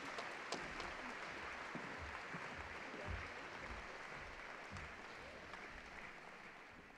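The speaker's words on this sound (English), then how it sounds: "a round of applause for our final athlete inductee, JC Murphy Kresnik" Audience applause for a hall of fame athlete inductee at an induction ceremony, a steady, faint wash of many hands clapping that holds evenly throughout.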